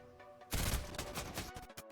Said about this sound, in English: He's still shooting me.